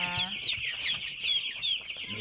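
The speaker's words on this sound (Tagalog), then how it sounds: "makukulit na talaga yung mga chicken oh" Nine-day-old broiler chickens in a crowded pen chirp and cluck continuously in a dense, high-pitched chorus, close and steady, with no talk over them.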